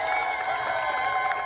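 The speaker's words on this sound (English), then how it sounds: "How about a big round of applause for Miss" A studio crowd gives a steady, moderate round of applause, even and sustained throughout, with a faint tonal ring layered over the clapping.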